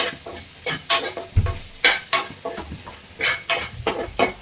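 Tomato is stirred into sizzling prawn roast masala in a pan. A low, steady frying sizzle sits under a rhythmic series of sharp scraping and clinking spoon strokes, close and fairly loud.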